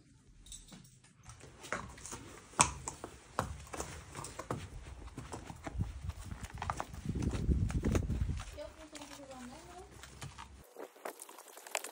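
Ponies' hooves clip-clop on hard ground at a horse stable, a fairly faint, uneven run of hoof strikes with a few bird calls and some low voices in the background.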